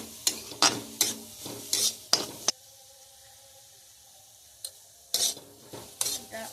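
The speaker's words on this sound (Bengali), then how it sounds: "মশলা দিয়ে একটু দু মিনিট এটা নাড়াচাড়া করে" A spiced cauliflower mixture for paratha is stirred in a pan, a series of rhythmic scraping, clinking strokes of a spoon against metal over a soft sizzle, a quiet pause in the middle, then another burst of stirring, close and clear.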